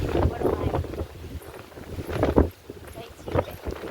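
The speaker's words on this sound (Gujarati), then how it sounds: "પવન કેટલો બધો છે અહીંયા" Strong wind sweeping across open farm fields in a village near a banyan tree, buffeting the microphone in uneven rumbling gusts while a person talks over it.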